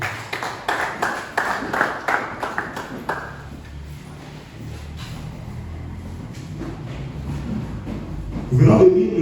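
A church congregation applauding during a thanksgiving service, a burst of rhythmic clapping that fades after a few seconds into quiet room murmur, followed at the end by a voice speaking.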